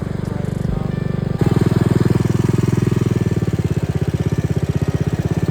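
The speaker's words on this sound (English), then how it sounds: "here's first gear, just slipping the clutch, just barely moving" A John Deere tractor engine in first gear with the clutch slipping, a close, chugging mechanical thrum that jumps louder and settles into a steady rapid pulsing beat.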